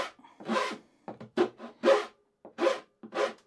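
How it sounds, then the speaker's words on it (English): A hand rasp rounds over a wooden edge on a removable car seat dog bed, giving several rough, scratchy strokes in an uneven rhythm, close and moderately loud with short pauses between passes. "I'm just gonna use the rasp here just to round that over"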